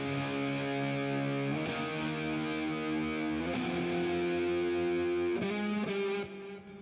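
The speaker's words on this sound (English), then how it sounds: "We have a distortion guitar here." A distorted electric guitar plays sustained, heavily saturated chords that change a few times and ring on thick and loud until a final cutoff, with no voices.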